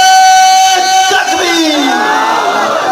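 A large religious gathering shouts responses to slogans, loud crowd voices rising in a roaring, cheering wave that fills the whole stretch, with a leading voice calling out over it.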